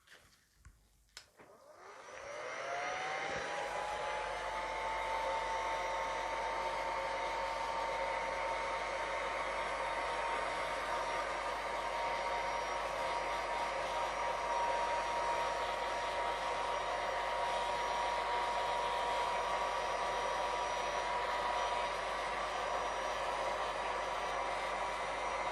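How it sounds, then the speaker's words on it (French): A heat gun blows hot air over an art resin feather to shift and blend its colours: a click, then the motor whirs up to a loud, steady rushing drone with a faint whine that holds for over twenty seconds. "ce que je vais faire avec mon décapeur thermique, c'est que je vais bouger un peu ma résine pour bouger les couleurs"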